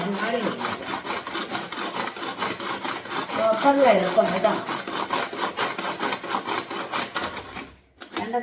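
Knife rapidly chopping curry leaves on a board, a dense fast rhythm of close crisp cuts continuing steadily with a short pause near the end.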